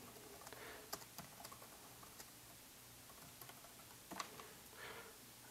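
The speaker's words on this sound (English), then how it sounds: "Let's begin by typing in a little bit of data into this workbook." Typing on a computer keyboard while entering data into an Excel workbook: scattered soft key clicks at a quiet level, with a few sharper taps and brief pauses.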